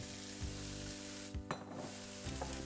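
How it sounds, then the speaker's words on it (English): Potatoes go into a pot of softened celery for potato corn chowder, giving a faint, steady sizzle with a few soft thuds and stirring sounds, no voices. "now we're going to add the potatoes"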